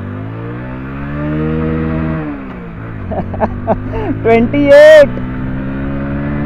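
A Hero Splendor Plus motorcycle engine drones while pulling in first gear, its pitch rising and then dropping at a shift, with someone talking over it.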